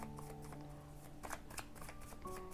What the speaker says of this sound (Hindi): कार्ड्स को क्लियर कर लेते हैं एनर्जी के साथ